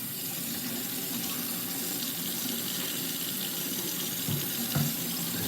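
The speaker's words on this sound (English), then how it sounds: "We're just doing our industrial degreaser here. It's probably loud in the microphone," Industrial degreaser sprayed onto a milling machine's oil contact points, a steady close hiss like running water that holds the whole time, with a couple of brief knocks near the end.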